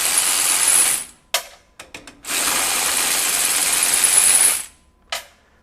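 A DeWalt DCF513 20V cordless ratchet runs a nut off in two long, loud whirring bursts. Short clicks and brief blips sit between them, and one more quick burst comes at the end.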